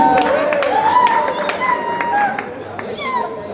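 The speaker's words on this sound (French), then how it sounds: "Est-ce qu'on peut applaudir pour le plus?" Wedding guests clap and cheer, a lively burst of applause with raised voices and chatter mixed in, fairly loud and close.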